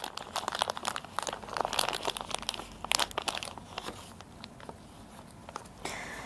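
Plastic packaging around a new injector valve assembly being opened, a burst of close crinkling and crumpling with sharp tearing rustles that gradually settles into softer handling.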